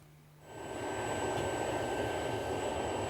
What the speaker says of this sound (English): The propane jet fire was initiated